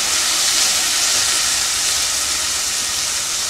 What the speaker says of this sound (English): we are going to saute the fruit so that it softens a little bit before adding in our